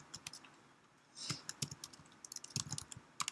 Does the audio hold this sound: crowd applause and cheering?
no